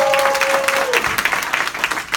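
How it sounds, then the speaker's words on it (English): An office audience of real estate agents claps for an honored colleague, a short, loud burst of dense applause close by with a brief tone at the start. "Give Susan a round of applause."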